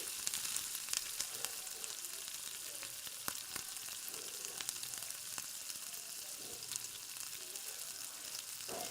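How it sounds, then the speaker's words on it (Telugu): Cut potatoes fry in a pan while being mashed into a paste for a hotel-style aloo kurma, a continuous close sizzle broken by scattered scraping and stirring clicks, no speech. "తర్వాత కట్ చేసి పెట్టుకున్న ఆలు వేస్తున్నాను సేమ్ ఆలు వేసిన తర్వాత కూడా అలానే మొత్తం స్మాష్ చేయాలి"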